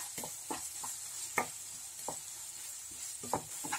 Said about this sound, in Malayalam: നമ്മൾ സവാളയും ഇഞ്ചി വെളുത്തുള്ളിയൊക്കെ ഇവിടെ നന്നായിട്ട് വഴന്ന് കുക്കായി വന്നിട്ടുണ്ട്